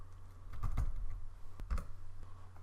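Typing on a computer keyboard while entering an Excel formula: a few clustered keystroke clicks, close and fairly quiet over a low steady hum, with a brief pause between bursts.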